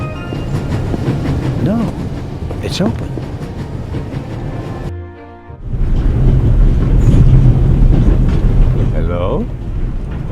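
A moving train in The Raven Remastered game rumbles steadily with clattering undertones, briefly muffled as if passing through a tunnel, then roaring back louder; a voice speaks briefly over it.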